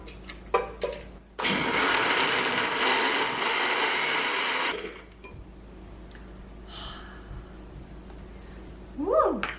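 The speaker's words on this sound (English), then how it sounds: "in the blender it goes" A kitchen blender whirs loudly as it purees huevos rancheros sauce in one steady run of about three seconds, then cuts off to quiet handling sounds.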